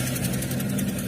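A Toyota engine with conventional ignition and poorly set timing idles close by, a loud, steady rumble with an uneven, rough pulse from misfiring.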